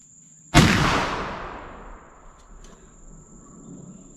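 A single loud black powder gunshot loaded with 3F powder booms close by and rolls away in a long decaying echo, with a steady insect-like whine in the background and no speech.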